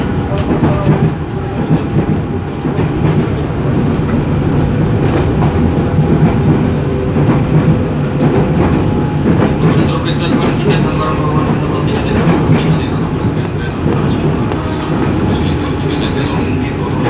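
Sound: KRL commuter train, ex-Musashino line, at Mangga Besar station

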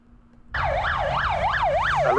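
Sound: ambulance sirens outside Russell Square tube station, news footage

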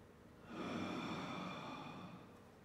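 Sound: person breathing in during an ab exercise

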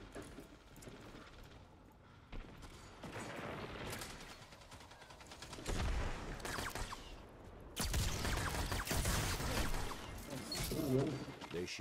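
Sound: gunshots in video game Destiny 2

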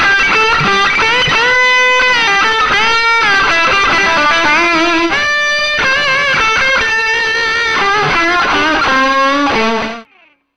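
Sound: electric guitar through airwindows Edge distortion plugin

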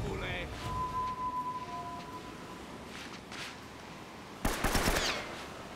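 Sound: gunfire in a video game

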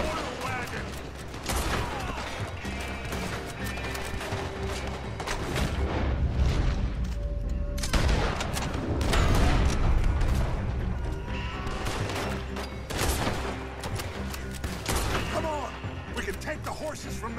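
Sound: gunfire at oil wagon in Red Dead Redemption 2 video game

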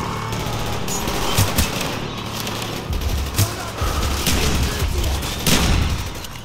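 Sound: shotgun gunfire in video game Black Ops 1

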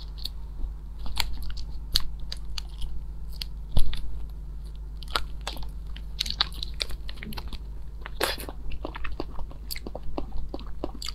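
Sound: crunchy cookies being chewed

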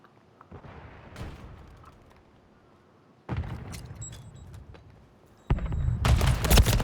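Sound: gunfire in the video game Call of Duty 3

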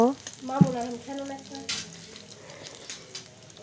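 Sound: spices frying with black cumin and whole cumin

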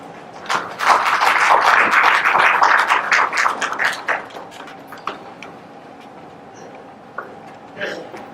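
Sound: audience applause welcoming a speaker

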